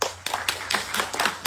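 Hands clapping at a cultural festival event in Kénitra, heard as short bursts of claps from a small audience, fairly close and moderately loud, with no talk over them.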